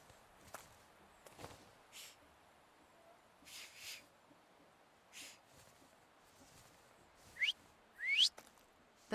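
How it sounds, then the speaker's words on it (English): Short whistled notes come from a character in The Thaumaturge video game, two quick rising whistles near the end, heard over faint footsteps and soft scattered thuds in a quiet scene. "So, have you mastered whistling?"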